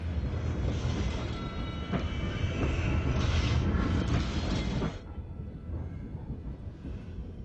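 A train rumbles steadily with clickety-clack and loud low roar, the sound abruptly dropping and dulling about two-thirds through as it passes into a tunnel.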